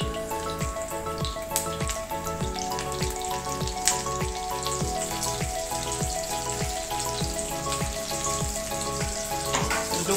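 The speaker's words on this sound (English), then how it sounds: "the other side we are putting into the oil first and let it cook for 2 to 3 minutes nicely" Steady crackling sizzle of coconut chutney stuffed pomfret fish frying in hot oil, a dense continuous spatter with faint ticking pops throughout, close and alone.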